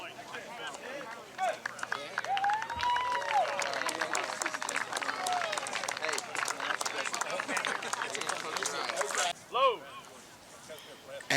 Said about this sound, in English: The American militia also got a round of applause from the grateful crowd.